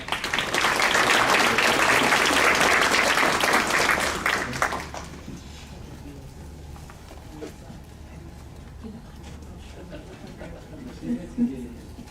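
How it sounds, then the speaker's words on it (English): Warm applause fills a staff awards ceremony hall, loud and sustained for several seconds before fading abruptly into quieter room sound with a person speaking. "Let's give this guy a round of applause."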